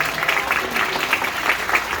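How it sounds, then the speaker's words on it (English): Applause from an audience at a live science show featuring dry ice, a dense steady wash of clapping that holds at an even level throughout without a break. "Give them a big round of applause!"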